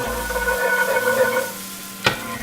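Garlic sweating in a hot pan for chicken Marsala, a steady soft sizzle with faint stirring, ending in a single sharp clink of a utensil against the pan.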